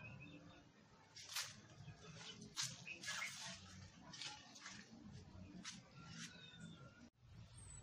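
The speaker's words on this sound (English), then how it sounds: "You can hear also different kinds of birds like that." Several birds chirp and call intermittently in an open outdoor setting, with faint background noise between the calls.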